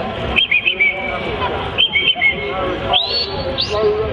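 A shepherd's left-hand whistle command to a herding dog at a Dorset steam fair: several sharp, rising whistle bursts in short groups, loud and close, with faint background murmur.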